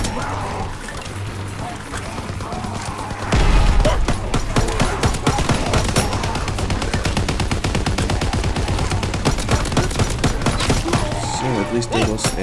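Rapid gunfire in Call of Duty: WWII rattles in dense bursts, loud and near, stuttering bangs packed close together after a quieter opening, with a player's voice faintly talking in places.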